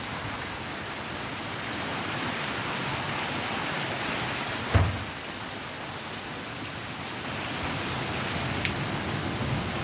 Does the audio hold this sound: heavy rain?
yes